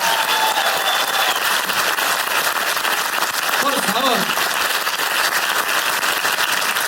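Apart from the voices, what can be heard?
audience applause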